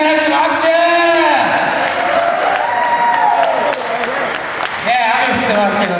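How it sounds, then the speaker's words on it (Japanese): A crowd at an outdoor concert at Ueno's open-air music hall in the rain claps, cheers and whoops loudly for a cover band, with shouted voices mixed through the steady applause. "身内じゃなくても拍手。"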